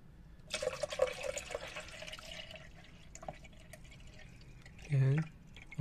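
Water pours into the tank of a budget coffee machine, splashing and trickling up close while a person talks, followed by a short low gurgle.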